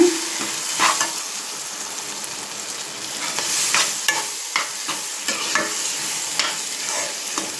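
Loud sizzling and crackling as wet cucumber chutney is stirred into a hot oil tempering, with irregular spatters and scraping throughout.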